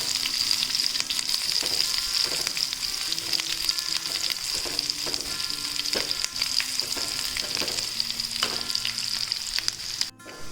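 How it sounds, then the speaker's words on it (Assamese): Onions frying in a pan for a green amaranth dish, a steady close sizzle with occasional scrape-like stirring taps, no voices. "এতিয়া পিঁয়াজখিনি অকণমান ট্ৰান্সলুচেণ্ট হ'বলৈ দিওঁ।"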